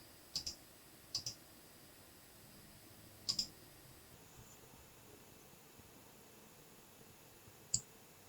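A computer mouse clicks a few times while a file is dragged from a downloads folder to the desktop, sparse sharp clicks, some in quick pairs, close but quiet over faint room hiss.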